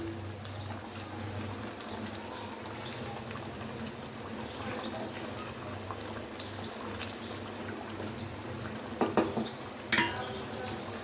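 Fried potatoes are stirred into a dum aloo masala in a pan, giving a low steady sizzle under a background hum, with a few louder scraping clatters of a spoon near the end.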